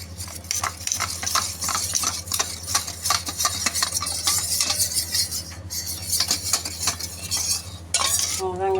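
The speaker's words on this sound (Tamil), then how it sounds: "மாவு நல்லா கட்டி போடாமல் கரைச்சிங்க" A spoon scrapes rhythmically around a bowl, quickly stirring a thick flour-and-water paste for homemade vanilla ice cream in steady repeated strokes.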